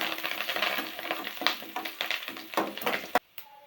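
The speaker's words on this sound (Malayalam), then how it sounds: "കടുക് പൊട്ടി" Mustard seeds spluttering in hot oil alongside small onions, chillies and curry leaves for a koombu thoran, a dense crackle of rapid pops with scattered sharper snaps, dropping away abruptly near the end.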